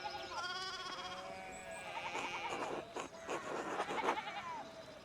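Sheep in the video game Pentiment bleat repeatedly, several wavering calls overlapping close by, loud and clear with no talk over them.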